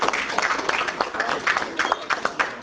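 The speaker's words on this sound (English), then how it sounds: "You guys, clap for your parents, please." An audience at a championship celebration meeting claps for parents, a loose, uneven round of applause from a modest crowd, with talk mixed in.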